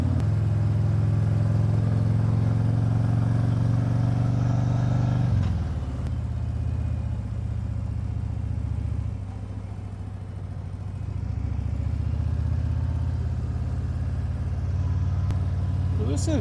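A motorcycle on winding rural back roads through ridge and valley country gives a steady loud engine drone with wind rumble, easing off briefly and then pulling again, recorded close on the moving bike.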